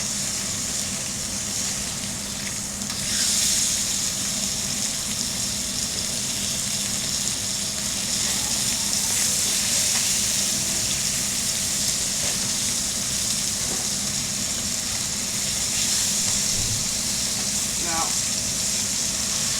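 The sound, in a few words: trout skin-side searing and sizzling in a pan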